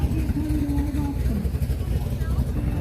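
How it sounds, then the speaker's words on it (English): A hot rod car engine runs loudly at an outdoor classic car show in Las Vegas, a steady low rumble that holds for about three seconds, close by, with voices talking over it. "the car started, and this hot rod here started right up."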